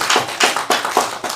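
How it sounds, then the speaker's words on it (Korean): A church congregation claps in a brief burst of about five sharp, fairly loud claps, close and evenly spaced, with no talking. "네, 박수 한번 해봅시다."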